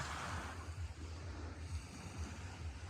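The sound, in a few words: sea surf rolling pebbles on shore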